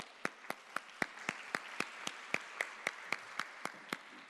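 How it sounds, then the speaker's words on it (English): Applause welcoming a speaker at a summit, heard as a quiet, evenly spaced series of single claps about four per second, distant and faint, with no talk. "please welcome with a big applause"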